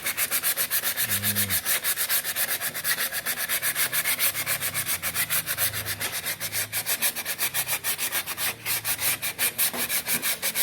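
Steady, rhythmic rasping of hand sanding over body filler on a vintage Vespa scooter, close by, with back-and-forth strokes continuing throughout without pause.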